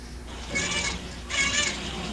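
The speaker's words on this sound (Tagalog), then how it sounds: "Parang pusa yung narinig namin, hindi kambing eh." Two drawn-out cat meows, close and clear, separated by a short pause with quiet background.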